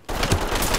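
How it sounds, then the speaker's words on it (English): Gunfire erupts in the Ready Or Not video game during a gas station raid, a brief dense burst of loud, continuous rapid shots. "Somebody shooting."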